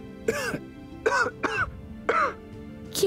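A person sick with a fever coughs and clears their throat in four or five harsh, close bursts with short pauses between them.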